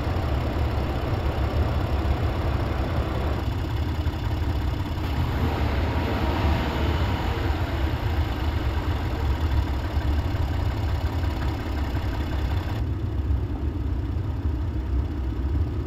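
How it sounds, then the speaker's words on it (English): A 2013 Ford F150 engine runs close up with a steady low rumble at idle, swelling somewhat midway as it revs, then settling back, with no talk. "Let me rev up the engine, see if it makes a difference."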